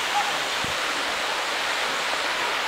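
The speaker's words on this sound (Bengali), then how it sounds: "এটা ওয়াটারফল নাম্বার 7, মানে স্পট নাম্বার 7, এটা একটা ওয়াটারফল।" A waterfall near Cherrapunji, Meghalaya pours in a steady, dense hiss of falling water that fills the whole clip evenly, with no talking.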